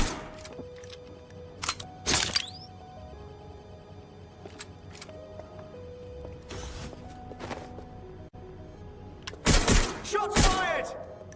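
Gunfire in the video game Watch Dogs: Legion, several sharp bursts of shots spread through a busy game soundscape, loudest near the end, with voices talking around them.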